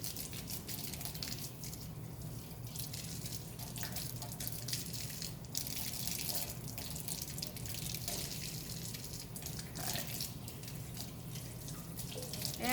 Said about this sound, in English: make sure that that water flows through. I can see it dripping out the other end.